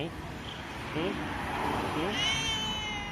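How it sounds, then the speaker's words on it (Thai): A cat meows in two drawn-out, plaintive calls close to the listener, with a person speaking softly to it and a faint high whine in the background. "รู้แล้วว่าเป็นแมว"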